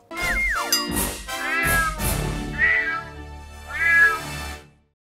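Several cat meows in quick succession, loud and close, with rising and falling drawn-out calls and short gaps between them, no talking.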